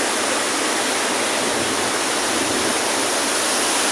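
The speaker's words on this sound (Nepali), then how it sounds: "यस्तै छ है कम्मर नदीको छाल हेर्नु होला कति छल्केको छ" Waves of the Kammar river splashing and rushing, a loud, dense, continuous roar of moving water close by with no voices.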